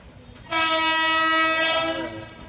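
A train blasts its horn in one long, loud, steady blare while passing a level crossing where traffic is backed up, the horn cutting off and leaving rumbling rail noise behind.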